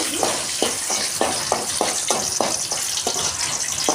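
Dried red chillies crackle and sizzle in hot oil in a pan, with a steady frying hiss and brief spitting bursts repeating throughout, close and fairly loud, with no talking.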